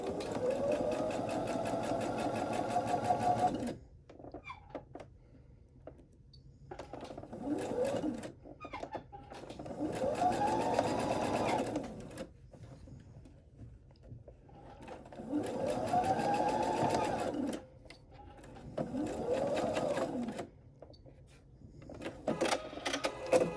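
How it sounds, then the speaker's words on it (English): A domestic sewing machine stitches the sides of fabric baby blocks together with a 1/4 inch seam, running in several bursts of steady mechanical whirring, each a few seconds long, separated by short quiet pauses. "Here we are again back at the sewing machine, and we are just going to stitch these sides together using a 1/4 inch seam allowance."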